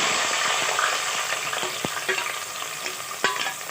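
Two onions hit about three-quarters of a cup of hot oil for khara masala keema, giving a loud, steady sizzle with scattered sharp pops and crackles throughout, no voices.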